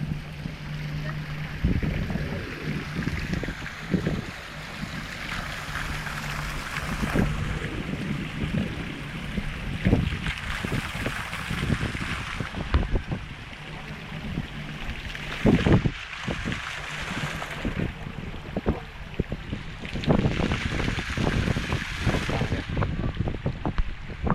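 Strong wind gusting outdoors on an open plain, buffeting the microphone in continuous roaring surges with rumbling bursts, loud and close for the whole stretch.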